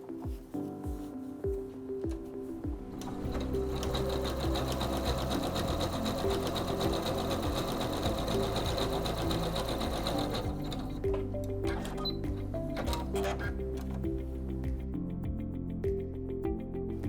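A SINGER C430 computerized sewing machine stitches a utility stitch, starting with a few short clicks before a loud, fast, steady motor whir and needle rattle that runs for several seconds, then drops back to quieter intermittent mechanical ticks.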